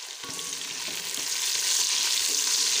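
Mutton sautéing in a pan with green chillies and lemon, a steady close frying sizzle that grows slightly louder, with faint stirring scrapes and no talking.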